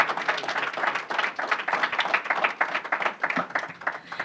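An audience at an awards event claps in a steady, moderately loud round of applause that holds throughout without voices.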